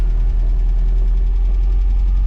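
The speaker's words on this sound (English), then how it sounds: "push the clutch in, turn the key, and she fires right up" An MGB GT engine runs at a steady idle, a loud, close, continuous low rumble with no pauses.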